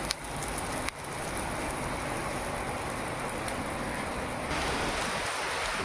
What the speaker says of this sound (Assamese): আমাৰ ফালে বহুত বেছিয়ে বৰষুণ দি আছে।